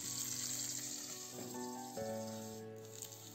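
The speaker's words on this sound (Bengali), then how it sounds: "আলুগুলো দিয়ে আগে আলুটা এর সাথে ভেজে নেব।" Potatoes fry in oil in a pan for Bengali pabda fish curry, a steady close hiss and sizzle that swells briefly as they settle, with faint clinks underneath.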